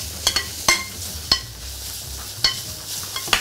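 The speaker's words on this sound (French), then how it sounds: "mettre un tout petit peu de farine dans nos champignons pour pouvoir avoir également cette liaison-là" Mushrooms cooking in a pan with a little flour, a steady low sizzle under sharp scraping clicks of stirring spaced irregularly across the span, close and moderately loud, with no talking.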